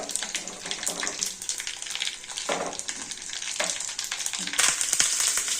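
Cumin, mustard seeds, urad dal and two dried chillies hit hot oil for a chutney tempering, crackling and sizzling loudly up close with sharp pops and a burst of intense spattering near the end.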